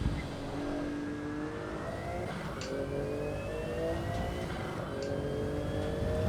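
A Porsche 935 race car engine revs in the Assetto Corsa EVO racing game, rising and falling through the gears in a steady, continuous drone at moderate level with no talking.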